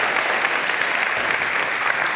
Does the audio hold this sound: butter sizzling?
no